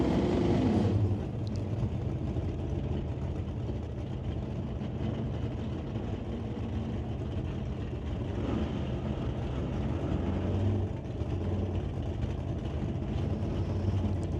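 A Chevy Camaro makes a drag racing run, heard as a steady, distant engine roar with a faint swell around the middle. The sound is broad and washed out, with no distinct shifts and no voices over it.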